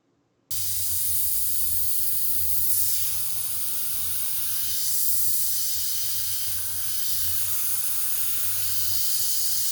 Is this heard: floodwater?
no